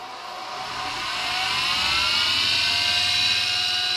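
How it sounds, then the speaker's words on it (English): An electric motor driving a CNC mill turning head winds up to speed, its whine climbing in pitch and loudness before holding a close, steady whir with no talking. "I don't think the motor I've got powering this head is going to be strong enough."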